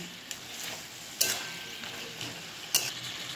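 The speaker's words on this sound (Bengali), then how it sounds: "মশলাটা যে কষানো হচ্ছে এরই মধ্যে আমি ভেজে রাখা মাছের মাথাটা দিয়ে দেব" Fried fish head stirred into spice paste sizzling in a pan: a steady frying hiss broken by a few sharp scraping strokes of the spoon against the pan.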